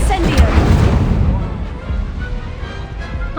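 A fire spell cast during a wizard duel in Hogwarts Legacy bursts out as a loud, booming blast with a rumbling tail that fades over a few seconds, with game music and effects layered underneath.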